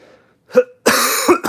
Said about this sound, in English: I got to cough a little bit over here.